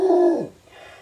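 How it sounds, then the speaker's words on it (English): A single short, tonal bark-like yelp from a dog, close and fairly loud, fading within half a second into quiet. "That's my dog."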